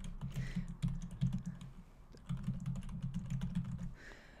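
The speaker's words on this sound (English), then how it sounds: "so I'm going to type it in." Someone types on a computer keyboard, producing a steady run of quick, close key clicks that pauses briefly midway and then carries on.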